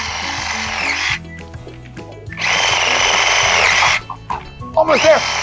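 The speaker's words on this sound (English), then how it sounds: "Oh, it's my sawzall. This is gonna work great." A Sawzall reciprocating saw runs in two loud, sustained bursts of motor whine while building a backyard zip line. Someone talks in the pauses between cuts.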